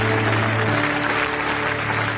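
A church congregation claps and cheers in acclaim of the Lord, a steady wash of applause from a large crowd filling the space for a couple of seconds.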